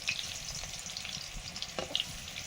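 Straw mushrooms, gathered from rotting paddy straw, frying in a pan in a home kitchen, giving a steady close sizzle and crackle with a few soft stirring scrapes and no talk.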